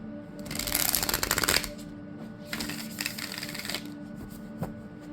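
Mass-market tarot cards being shuffled in two quick riffle bursts, a crisp fluttering rush close by, followed by a few softer handling clicks.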